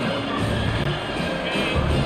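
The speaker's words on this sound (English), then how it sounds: "Here comes this home crowd as the defense tries to get off the field on third down" A home football crowd roars continuously in a stadium as the defense tries to get off the field on third down, a dense, steady wall of cheering with no breaks.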